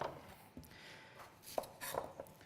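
A knife chops through pork medallions on a cutting board, giving a few quiet, irregular knocks spaced across a couple of seconds with faint kitchen noise between them.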